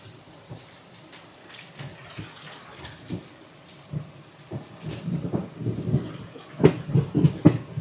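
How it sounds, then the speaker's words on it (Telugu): Heavy rain pours outside the Tirupati–Kakinada Town Express train 17249 near Rajahmundry, a steady broadband downpour with low rumbling thumps that grows louder and denser toward the end. "వర్షం అయితే చాలా హెవీగా పడుతుంది"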